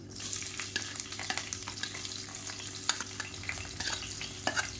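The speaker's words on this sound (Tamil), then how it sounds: "மீடியம் சைஸாக பெரிய வெங்காயம் நீளமாக கட் பண்ணதை சேர்த்துக்கலாம்" Long-sliced big onions fry in oil for a chicken gravy, crackling under a constant sizzle while a ladle scrapes through them in quick, uneven strokes, near and clear with no one talking.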